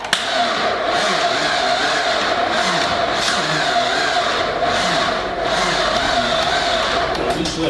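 A Chevrolet Cobalt project car with a 2.2L L61 engine running with the throttle held open, giving a loud, steady, close-up engine drone that holds its pitch for several seconds.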